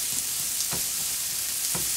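Onions caramelizing in a pan give off a constant hiss of frying with a few soft clicks and stir sounds, fairly quiet, with no talk.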